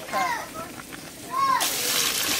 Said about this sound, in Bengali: তুমি জল দিয়ে দাও